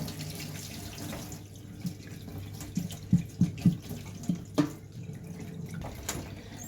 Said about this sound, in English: Now it's time to wash the leg. So similar type of thing, just wash it until it's clean.